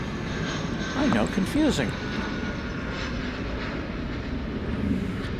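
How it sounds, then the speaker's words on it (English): A UPS MD-11 cargo jet taking off at night from DFW Airport gives a steady, distant engine roar that fills the background while a person talks briefly over it. "we're about to see the taking off of UPS flight 767, which is not a 767, but is an MD-11"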